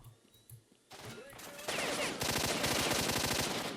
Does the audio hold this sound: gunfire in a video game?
yes